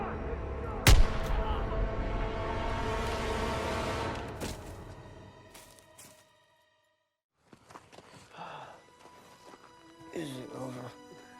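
A loud gunshot from Call of Duty: WWII cracks out near the start, followed by a long rumbling battle roar that fades into silence, then scattered clatter and voices talking.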